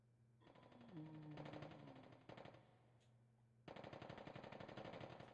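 Rapid bursts of automatic gunfire from the Resident Evil Survivor video game, several sustained volleys separated by short pauses, loud and close, with a brief tonal game sound under the first burst.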